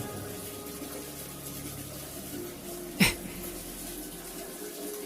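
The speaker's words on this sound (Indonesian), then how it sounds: "suara keran di kamar mandi" A water tap runs steadily in a bathroom, a continuous hiss of flowing water with one brief knock partway through.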